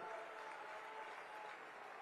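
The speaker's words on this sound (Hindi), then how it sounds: "चंदौली की भूमि के लिए जोर से ताली बजाकर स्वागत करिए जरा" Election rally crowd applauds, a dense, even wash of clapping heard faintly from a distance for a couple of seconds.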